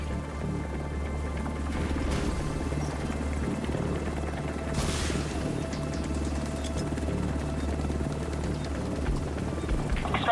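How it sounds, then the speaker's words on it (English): An extraction helicopter arrives in the video game The Division 2, a steady low rotor drone that holds throughout, with a couple of brief whooshing swells over it. "Extraction helo, almost within range. Chopper on site."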